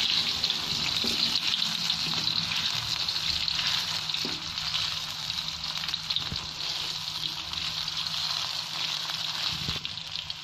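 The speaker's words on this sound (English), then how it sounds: "now put the onion to the oil" Onion fries in hot oil for egg martabak, giving a steady, close, bright sizzle that runs throughout with a few small clinks of utensils.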